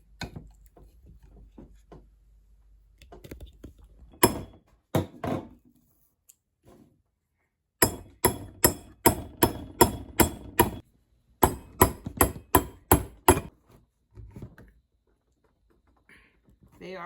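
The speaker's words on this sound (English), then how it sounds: "We decided to take like a cake spatula and pry them in." Stuck parts pried out with a cake spatula, giving clusters of sharp metallic knocks and scrapes in quick rhythmic bursts, close and fairly loud, with quiet gaps between.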